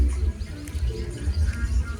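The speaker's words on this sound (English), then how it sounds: "You do hear the sounds of the nesting weaver birds." Nesting weaver birds call faintly from a tree by a lake, with soft, scattered chirps over a low, steady background rumble.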